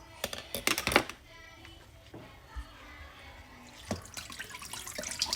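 Tap water runs into a kitchen sink while a whole raw chicken is washed for a roast dinner, a steady splashing flow with a few louder bursts of handling and dripping, close and alone.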